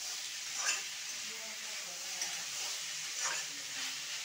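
Beans, potato and radish stir-fry in a pan with a steady, close sizzle that swells softly three times as the pieces are turned.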